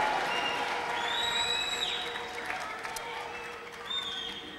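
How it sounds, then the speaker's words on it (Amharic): A church congregation at an Ethiopian Amharic-language worship service claps and cheers in praise, a dense crowd wash of applause with high ululating trills rising above it, fairly loud and sustained before tapering slightly. "ደስ ያለው ሰው አሜን ብሎ ለጌታ ጭብጨባና እልልታ ለኢየሱስ ክርስቶስ ያመጣል።"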